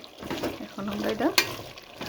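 Potatoes being fried and stirred together with meat in a pan, a soft sizzle with scraping spatula strokes over about two seconds, fairly close, with some faint background voice.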